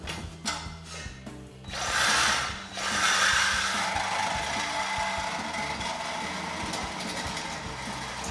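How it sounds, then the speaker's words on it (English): A saw cuts through the rear section of a factory exhaust muffler on a Silverado/Sierra 1500 pickup, a loud continuous rasping metal grind after a few short stop-start strokes, close up, with no talking. "So I'm gonna go ahead and use the saw just like we did before up front on the muffler."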